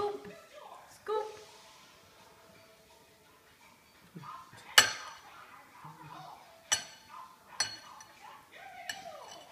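A spoon scoops soup from a bowl, several light clinks and scrapes of metal on crockery, close and sparse, with a voice and other speech around them.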